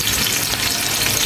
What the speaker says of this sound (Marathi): लसूण पण छान फ्राय होतं